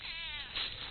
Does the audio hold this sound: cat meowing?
yes